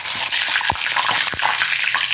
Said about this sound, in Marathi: घेते आता करून वेपर्स तळून घेते